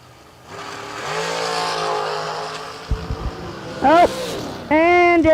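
Jeremy West's race car launching down the strip at a Friday season kick-off drag event, a loud sustained engine roar with a rising harmonic sweep near the end, heard under an announcer's talk and crowd noise.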